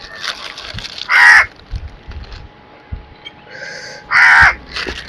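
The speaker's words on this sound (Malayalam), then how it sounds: "കൂടെ കാക്കയും വരുന്നുണ്ട് കേട്ടോ പിന്നെ." Crows cawing outdoors by a lakeside, two loud harsh caws rising well above a quieter background with some faint distant calls in between.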